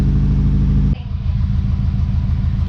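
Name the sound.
car engine running with exhaust leak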